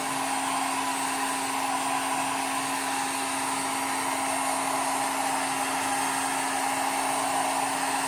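A heat gun runs steadily while heating PVC pipe, a constant loud whirring blow with a steady tonal hum, moved back and forth without pause.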